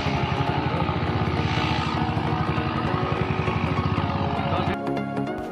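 Motorcycles on a downhill track during a January ride from Nagaon to Laokhwa, a loud continuous engine drone with rapid pulsing that cuts off sharply near the end.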